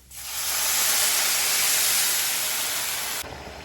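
A loud, rushing sizzle swells up and holds, steam hissing as water is poured onto rice frying in a hot pan, then cuts off abruptly near the end.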